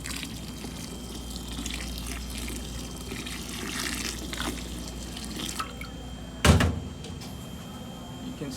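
Water poured over coffee grounds in a cold brew bag makes a soft, steady trickle and splash close by, with a sharp knock partway through.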